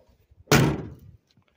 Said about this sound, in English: Doors closed really nice.